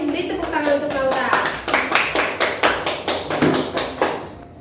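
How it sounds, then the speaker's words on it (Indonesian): Classmates in a classroom applauding a pupil after a reading, a run of fairly close, evenly spaced claps, with a voice heard over the start. "yang lain beri tepuk tangan untuk Naura"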